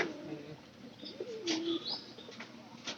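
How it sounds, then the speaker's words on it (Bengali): A pigeon newly released into a pigeon house coos softly, rising and falling murmurs with a few faint chirps and light rustling in a quiet indoor space. "পায়রাটা কিন্তু ডাক বালা আছে"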